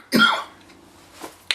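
A single sharp cough bursts out close and loud, followed by a faint throaty noise and a brief second short burst near the end, with no talk around it.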